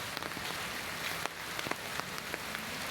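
Heavy rain falls steadily on surfaces outdoors, a dense continuous hiss dotted with sharper drop impacts, close and even throughout with no voices.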